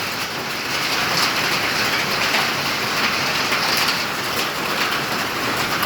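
Dense hail pelts roof sheets in a continuous, loud rattling roar with no voices, steady from start to finish.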